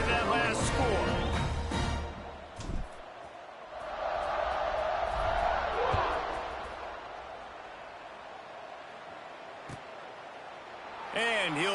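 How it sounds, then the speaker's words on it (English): A college football stadium crowd keeps a broad, rising and falling roar going after a score. Brief sharp knocks cut through it near the start and again near the end. "this crowd is buzzing after that last score"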